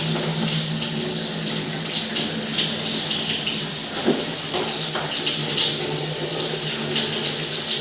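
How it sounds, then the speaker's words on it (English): Tap water runs hard into a stationary laundry tub in a house basement, a loud steady splashing rush with a faint hum beneath, no talking. "I'm going to run some water in the stationary tub here."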